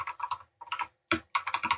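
Rapid typing on a modded computer keyboard comes in close, crisp clusters of clacky keystrokes separated by brief pauses, with no talking over it.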